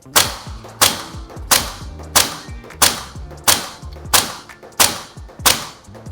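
Tokyo Marui ISO556 airsoft rifle firing about nine evenly spaced semi-auto shots in a row during a grouping test, each a sharp, close snap with a mechanical thump, no talking.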